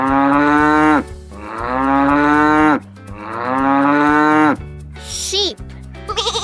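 A cow gives three long, loud, close moos, each drawn out for over a second, followed by a couple of shorter bright calls at the end, with light music underneath.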